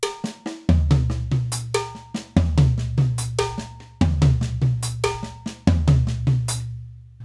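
A paradiddle drumming exercise played on a drum kit with the high tom, a steady run of sharp strokes punctuated by regular low booming hits, loud and close with no talking.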